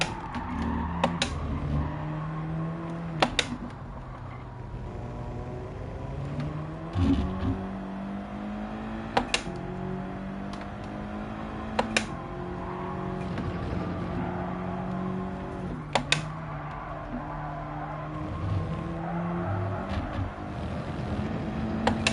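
Race car engine in Gran Turismo 7, revving high and steady with rising and falling pitch as it shifts through gears, with sharp clicks or bumps at intervals throughout a long run alone.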